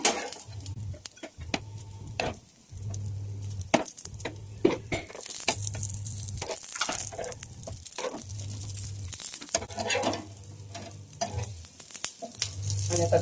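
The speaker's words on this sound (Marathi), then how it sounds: "आणि आता दुसऱ्या बाजूने छान असे खरपूस शालो फ्राय करून घ्यायचे" Masala oats cutlets shallow frying in a pan after being flipped to the second side, a steady close sizzle broken by repeated scraping and clattering from a spatula, with no talking.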